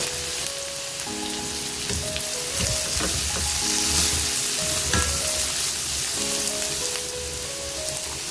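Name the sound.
carrot and capsicum sizzling while stir-fried in a pan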